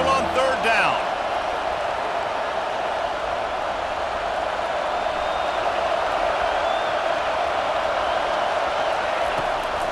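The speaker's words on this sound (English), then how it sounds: "Here comes this home crowd as the defense tries to get off the field on third down." A home crowd roars at a football game as the defense faces third down, a dense, loud, sustained wall of stadium noise with brief thumps at the start.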